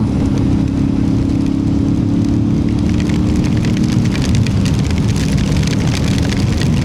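Steady rain falls during a motorbike ride on curvy roads near Karkala, a dense continuous hiss under a low, constant engine drone, with no voices.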